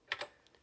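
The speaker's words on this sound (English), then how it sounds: "And now I just type pinball" A TRS-80 Model 1 computer keyboard gives two quick, crisp keystrokes up close, followed by a couple of faint, lighter taps.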